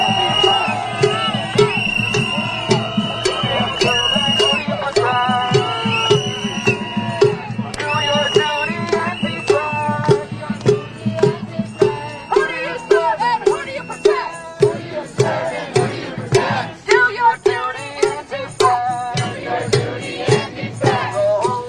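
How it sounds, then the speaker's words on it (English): Protest crowd outside an ICE processing facility booing and shouting at a convoy of passing vans, a loud sustained roar of many voices with surges of jeers, heard up close alongside music or chanting. "You hear that booing being directed again at one of these passing vans here on the road"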